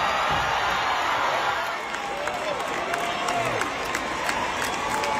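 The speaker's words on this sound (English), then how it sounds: "look at the crowds all standing up, applauding" A large theater crowd applauding and cheering for Grease's Olivia Newton-John and John Travolta reunion, a dense continuous wash of clapping with scattered whoops and shouts.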